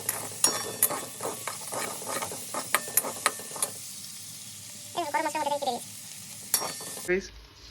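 Ginger garlic paste hitting a hot pan with onions already frying, giving a steady close sizzle broken by bursts of stirring and clattering utensil scrapes, with a brief whining tone near the middle.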